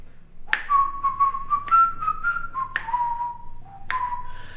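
A person whistles a slow, wavering tune imitating a haunting whistle heard at the Ben Johnson Cowboy Museum in Pawhuska, Oklahoma, with sustained clear notes broken by four sharp clicks or snaps at irregular intervals.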